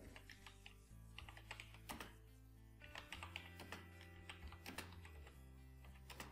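Fingers tap quickly on a computer keyboard in an irregular run of close, crisp key clicks over a low steady hum, with no speech.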